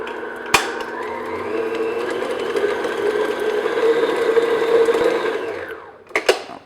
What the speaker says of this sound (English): I'm just going to beat this just to soften it up and get it nice and smooth